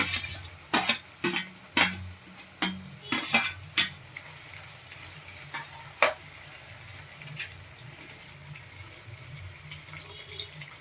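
Capsicum and tomatoes being stirred in a pan for paneer bhurji: a series of sharp spoon clanks against the pan over the first six seconds, then a softer sizzle and faint scraping, close up with no voices.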